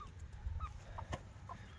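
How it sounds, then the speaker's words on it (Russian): Chickens cluck and scratch around a small trailer in a chicken yard, with faint, scattered clucks and short calls at a distance and no talking. "Все куры выгребают из-под прицепчика."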